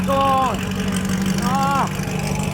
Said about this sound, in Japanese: わあ、爆音だよ、爆音